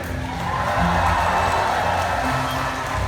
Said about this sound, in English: let's give him a great big cheer